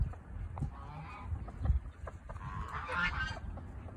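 Several geese honk in short bursts at mid distance, with other bird calls and faint outdoor background noise.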